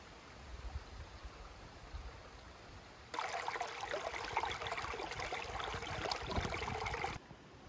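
Soft creek water flows and trickles steadily on an autumn day in upstate New York, faint at first and then louder and fuller for several seconds, with no voices.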